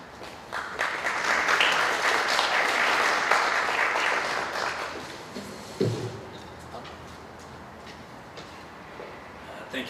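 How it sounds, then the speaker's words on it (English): Thunderous applause from about 40 boys in a school hall during a college assembly, a dense, loud burst of clapping that swells for several seconds and then fades into room noise with a brief knock. "There was a thunderous applause in the hall then from about 40 boys that are present."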